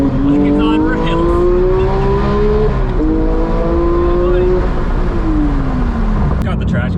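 Porsche 991.2 GT3 with a manual gearbox driving hard, its engine note loud and close, climbing in pitch through rising revs with a brief drop at a gear change, then easing off, with talk over it.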